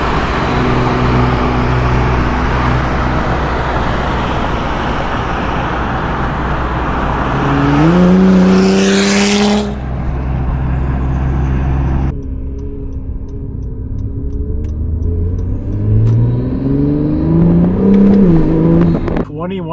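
An older car drives on the road, its engine droning steadily under heavy road and wind noise, revving up through gear changes that rise and drop, with a voice talking over part of it.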